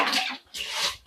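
A wet flat brush splashes into a bucket of water and soaks an old wall, giving two close bursts of sloshing water with a short gap between them.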